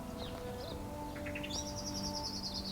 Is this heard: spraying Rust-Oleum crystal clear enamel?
no